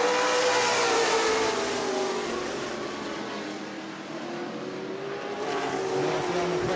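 Race cars scream around the New Smyrna speedway during a modified race, a loud engine drone that swells and fades in pitch as cars pass. A commentator's voice sits faintly beneath the roar.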